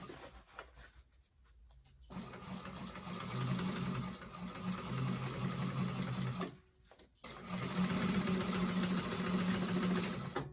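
A sewing machine stitches a handbag seam, running in steady bursts with a brief pause before it starts again, back stitching to lock the seam. The mechanical hum is close and continuous, and nobody speaks.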